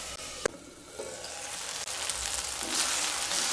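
Ginger, garlic, dried chillies and tomatoes sizzle in a pan for momo chutney, a steady close frying hiss that grows louder toward the end, with a sharp click near the start and no talk.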